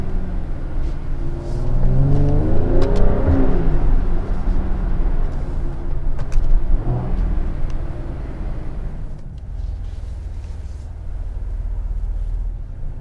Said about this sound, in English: Nice pops and crackles.